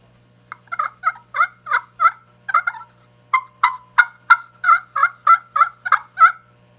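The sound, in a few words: wild turkey hen call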